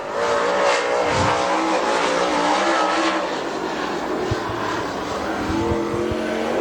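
A super late model dirt track race car roars around Dixie Speedway, its engine a loud continuous drone heard at a distance, swelling and easing slightly as it circles the track.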